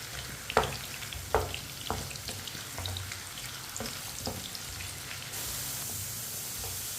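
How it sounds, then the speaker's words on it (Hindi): Finely chopped potato fries in a pan with a soft, constant sizzle, marked by a few crisp spatula taps early on before the frying settles into an even hiss. "आलू को भी 2-3 मिनट के लिए फ्राई कर लेंगे।"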